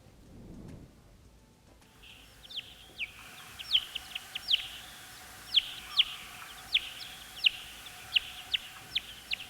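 Recorded calls of a fishing bat, Noctilio, come as a run of about a dozen sharp, evenly spaced chirps after a soft thud at the start, clear against a quiet background.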